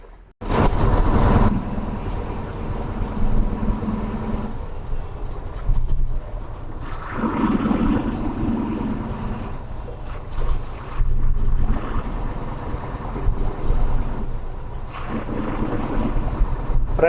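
A company lorry on a wide double road at night, heading to a tyre company in Gujarat, heard as a loud, continuous drone of engine and road rumble, with heavy wind buffeting the microphone and no voices.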